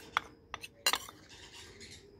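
A spoon stirs avaram flower powder into water in a metal pot, producing a few sharp, close clinks and scrapes against the sides over a quiet background.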